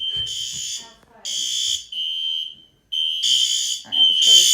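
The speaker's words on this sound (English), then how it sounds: "Here's the fire alarm" A building fire alarm system under test, its horn sounding in loud repeating electronic blasts with short gaps between them, heard up close indoors. Someone speaks briefly at the start.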